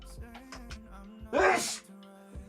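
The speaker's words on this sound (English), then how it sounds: "I'm gonna sneeze." A single sneeze bursts out mid-clip, sharp and close, between stretches of quiet talk from a person gaming indoors, with a low steady hum underneath.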